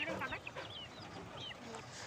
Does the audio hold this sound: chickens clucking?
yes